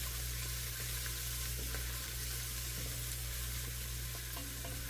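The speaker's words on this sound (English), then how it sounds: "So we'll start getting those sauteed up so that they start to soften" Sliced shallot sautéing in a pan for beef and tomato macaroni soup, giving a steady, soft sizzle with faint stirring, close and continuous with no talk.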